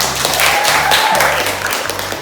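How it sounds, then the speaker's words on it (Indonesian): A classroom group applauds presenters with a short burst of dense, steady clapping over a low background hum. "Beri tepuk tangan untuk semuanya"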